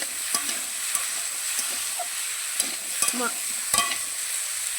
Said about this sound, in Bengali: ভালো করে কষিয়ে নেবো, এটা ভেজে ভেজে নেব।